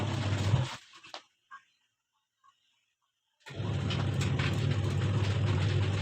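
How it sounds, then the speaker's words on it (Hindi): Washing machine spinning a load of bedsheets, a loud, steady mechanical rumble that cuts off into near silence for a few seconds, then resumes at full strength, with no talking. "इस वॉशिंग मशीन में ना मेरी बेडशीट वगैरह जो थी ये घूम रही थी"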